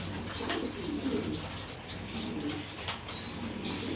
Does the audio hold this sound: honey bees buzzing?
no